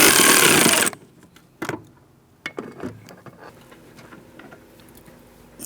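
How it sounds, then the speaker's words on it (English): A 10mm swivel socket on a long extension loosening a coolant reservoir mounting bolt on a 2003-2007 Cadillac CTS 3.6L V6, heard as a loud burst of ratcheting and then scattered close metallic clicks and clanks with no talk. "I'm just using a swivel socket and a long extension so I can gain access."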